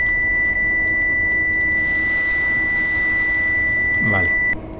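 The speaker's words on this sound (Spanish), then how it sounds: "Perdonad los pitidos como locos." Steady electronic warning beeps sound inside a train cab in Train Simulator Classic, a repeating high tone held under a low rumble of the simulated locomotive.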